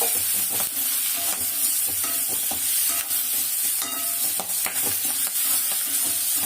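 Salt and tamarind sautéing in a pan make a loud, constant frying sizzle, with repeated spatula scrapes and knocks against the metal at an irregular stirring rhythm.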